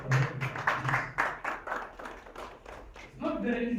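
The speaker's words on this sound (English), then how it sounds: "give the vision bearer a round of applause for thinking so correctly." A small group at a Ugandan press conference for a charity run gives a round of applause, with fairly quick, moderately faint claps and voices underneath.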